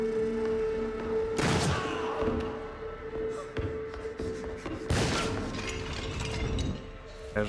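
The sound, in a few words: gunshot in a video game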